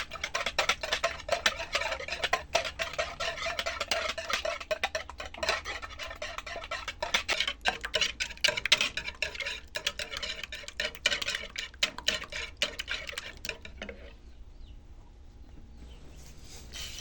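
Two eggs are beaten by hand in a large bowl, a rapid, steady clicking and tapping of utensil against the bowl that continues for many seconds before slowing and fading near the end.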